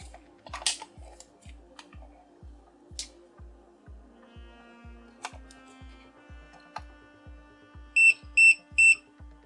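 Three short, sharp electronic beeps from an ET828pro multimeter measuring 220-volt AC near the end, heard over quiet ticking and small clicks.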